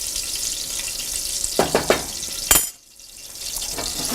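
Food is stirred in a frying pan over a faint steady sizzle, with a few short scraping clacks and one sharp knock, close by, and no talking.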